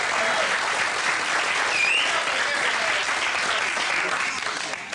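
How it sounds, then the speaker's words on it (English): A stand-up comedy audience breaks into loud, dense applause that stays full and steady, tapering slightly at the very end, with a few cheers mixed in. "Do me a favour, give him a big round of applause."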